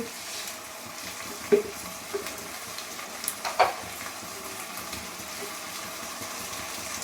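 Spices with cumin and a little sugar sizzle softly in a pan while being stirred, a steady low frying hiss broken by a few faint scrapes and taps.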